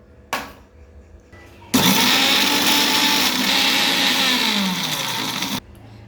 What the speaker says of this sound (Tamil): நம்ம மிக்சர் எடுத்து இந்த பிஸ்கட்டை இதுக்குள்ளே போட்டுட்டு இதை மிக்சியில் அரைக்கணும்